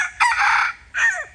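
Close and loud, a rooster in rural Thailand gives a short, hoarse crow: one sustained note followed by a quick falling tail, with nobody speaking.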